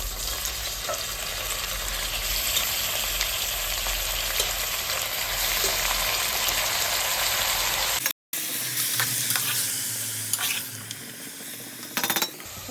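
Washed mutton fries in a pan over onions already browned, making a loud, continuous sizzle. After a momentary cut it continues as a lighter hiss with occasional metal clinks from stirring.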